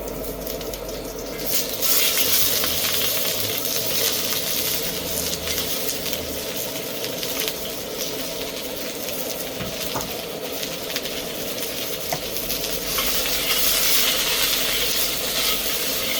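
Food sizzles and hisses steadily in a massive new 50cm wok over a powerful wok burner during seasoning, a loud continuous fry with occasional scrapes and the burner's roar underneath.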